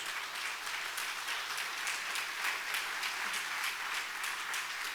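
Church congregation applauding loudly for Jesus during a Spanish-language sermon, a steady dense wash of clapping from many hands throughout, fairly close and sustained without talk.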